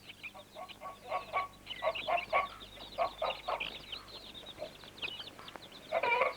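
Hungry backyard chickens clucking for breakfast in a Malayalam film scene, a series of repeated, rhythmic bursts of clucking from a few birds, fairly faint and spaced out, with a louder flurry at the end.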